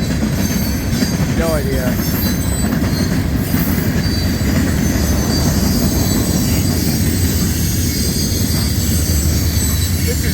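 A CSX mixed freight train rolls through Homestead, Pennsylvania at speed, its steady loud wheel rumble and rail noise filling the scene with brief squeals; a voice speaks briefly near the start.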